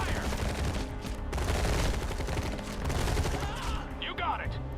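Sustained massed gunfire from units in the real-time strategy game Tempest Rising, a dense rattling fusillade filling the whole stretch at steady loudness with faint voice lines underneath.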